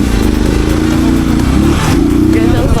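A motorcycle engine drones loudly and steadily as the bike rides through a road-repair driving video game, its pitch dipping and rising briefly partway through.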